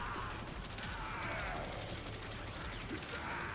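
Rapid, dense gunfire from headshot kills in the Warframe video game crackles continuously at a steady, fairly quiet level, with shots running together into a sustained fusillade throughout.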